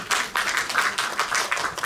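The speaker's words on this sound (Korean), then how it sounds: "큰 박수 부탁드립니다" Applause and clapping break out from an audience at a Korean speech contest ceremony, a burst of quick, uneven claps of moderate loudness with no talk over it.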